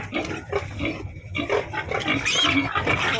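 Pigs on a pig farm grunt and squeal continuously, several animals close by in a busy, overlapping chorus with sharper squeals rising toward the end.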